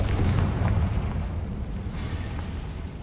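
A Confringo spell explosion in the video game Hogwarts Legacy, a loud booming blast with a sustained low rumble and crackle that fades gradually over a few seconds.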